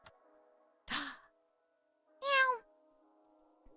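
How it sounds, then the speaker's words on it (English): Two short cat meows from a video game, each a brief bright call separated by a quiet pause, heard alone over a faint steady background hum. "Oh, we have a cat!"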